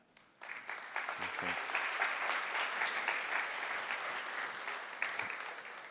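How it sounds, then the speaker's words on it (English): Audience applause at a clay sculpting experts' talk, a roomful of people clapping steadily at moderate volume after a brief quiet start, with a few low voice fragments near the beginning. "Give yourselves a round of applause."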